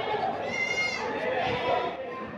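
Goats at a livestock market bleat in a wavering, nasal cry lasting over a second, close by, with a busy crowd murmuring behind them.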